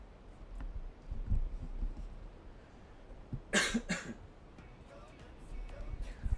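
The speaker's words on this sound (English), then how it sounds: "Sorry if you can hear me coughing, because I've got a cold." A person with a cold coughs in a short burst of two or three harsh coughs, close to the microphone, among quiet background noise and faint clicks.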